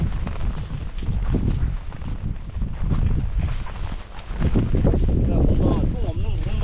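Strong wind gusting across the open Gobi desert in Mongolia, a loud, continuous roaring buffet against the microphone that swells and dips, with some muffled voices underneath.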